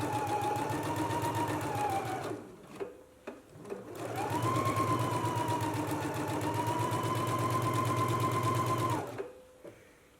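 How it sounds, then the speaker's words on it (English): Sewing machine stitching a center back seam at a 5/8 inch allowance on a garment, running in two long steady bursts separated by a brief pause with a few small clicks, close and loud throughout. "I'm going to stitch at a 5/8 of an inch seam allowance, starting at the hem and working my way up to the top."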